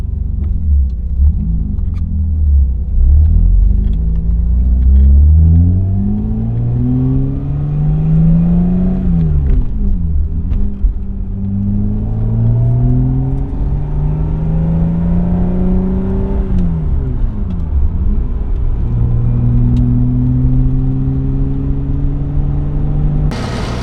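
A BMW E30 driving on the road, its engine loud and close as it revs up through the gears with rising pitch, drops at each shift, and then cruises with a steady rumble.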